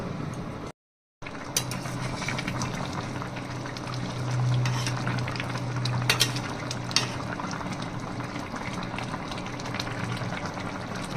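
Fish curry with tomato simmering under a lid, a low steady bubbling and hiss that swells slightly midway, with a brief gap of silence near the start and faint clinks.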